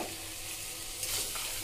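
Deboned rohu fish dropped into spice masala frying in oil, giving a steady close sizzle with a brief louder burst of crackle partway through, no talking.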